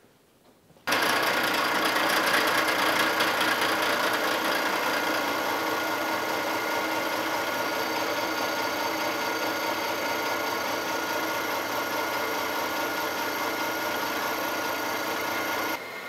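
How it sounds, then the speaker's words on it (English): A face mill cuts steadily across a part held in a vise on a milling machine, squaring it during an arbor press restoration. The cutting sound is loud and continuous, a dense whirring grind that starts abruptly and holds for the whole span with no talk. "got my face mill going here"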